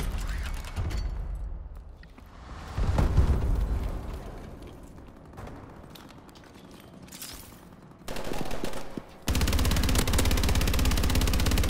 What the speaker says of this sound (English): Missile strikes inbound.